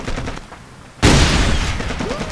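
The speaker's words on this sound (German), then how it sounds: "Ich werf einfach mal eine Granate." Grenade in the war video game ShellShock 2: a quiet stretch of game noise, then a sudden loud explosion that bursts out and rumbles on to the end.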